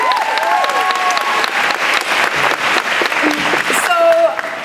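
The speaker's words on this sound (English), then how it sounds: "Give yourselves a round of applause." Audience at a reproductive freedom conference at Hampshire College applauding, dense steady clapping from a room full of people for several seconds, with a few cheers mixed in.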